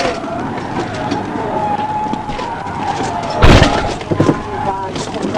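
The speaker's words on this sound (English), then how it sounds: "the officer who collided with the concrete barrier during the pit maneuver" A police car skids and slams into a concrete barrier during a high-speed PIT maneuver, a sudden loud crash and thuds bursting over continuous road and engine roar, with a voice talking through it.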